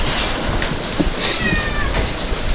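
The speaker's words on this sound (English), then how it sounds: "I hear a cat" A cat gives a faint, thin meow, brief and somewhat distant, over steady background noise.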